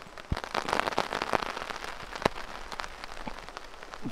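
Steady rain falls in a forest, pattering densely on leaves and a poncho nearby, with sharper individual drops popping through the continuous hiss.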